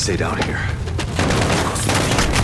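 Gunfire in Call of Duty Modern Warfare rattles as a dense, continuous fusillade of shots and blasts, loud and sustained throughout, with a voice talking over it.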